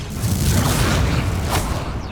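Confringo blasting spell explosions in Hogwarts Legacy gameplay, a loud sustained booming roar of blasts and crackling impacts filling the whole moment.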